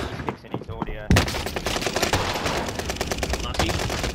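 Rapid automatic gunfire in the shooter game Warzone on the Caldera map, with loud, dense bursts of shots crackling almost continuously after a quieter opening second.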